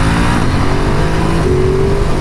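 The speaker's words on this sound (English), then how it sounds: "If you just rev the snot out of it." A 2022 Ducati Monster engine is revved hard, a loud, close, continuous roar whose pitch rises steadily through the throttle blip without any talking.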